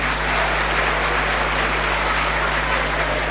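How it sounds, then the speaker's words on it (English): An audience at a university alumni lecture claps for the heads of department and deans: dense, steady applause that fills the room evenly from start to finish, with no talking over it. "let's clap for the heads of department and the deans"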